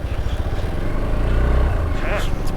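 A motorcycle rides a mountain road toward Shinkula pass in Zanskar, its engine a continuous low rumble heard close and steady throughout, with a brief voice near the end.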